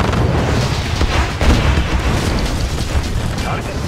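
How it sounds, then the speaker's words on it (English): A missile launch and explosion in the Red Alert 2 real-time strategy game, a dense rumbling boom with bursts layered over continuous battle noise, while unit voices talk over it. "Missile ready. And fire!"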